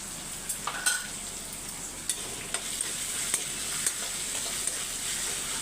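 Potatoes sizzle and sauté steadily in a pan, with occasional light scrapes and taps of a utensil stirring.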